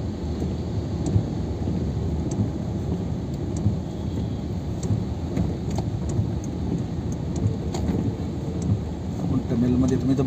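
Steady rain drums around a car driving on the Mumbai-Pune Expressway in the monsoon, a continuous wash of rainfall and road rumble with occasional faint ticks.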